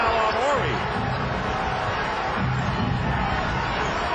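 A packed basketball arena crowd at a 2006 NBA playoff game in San Antonio murmurs and stirs in a steady, loud roar after a missed layup with no foul called, with a voice briefly audible early on.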